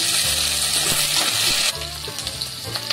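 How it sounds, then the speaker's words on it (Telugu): Chillies sizzling in a pan with lightly roasted onions for vegetable pulao, a loud bright hiss of hot oil that drops in intensity partway through, with soft stirring knocks underneath. "ఇలా లైట్ గా రోస్ట్ అయ్యాక చిల్లీస్ ని యాడ్ చేసుకోండి."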